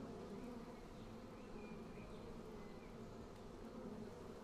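A steady, faint buzzing of bees drones on without a break, part of the ambient sound near a flower in the video game Sumatra: Fate of Yandi.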